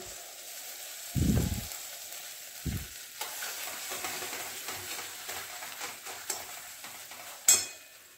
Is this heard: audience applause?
no